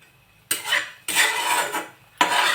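Roasted coconut being scraped out of a pan with a metal utensil, producing three loud bursts of metallic scraping and clatter separated by short pauses.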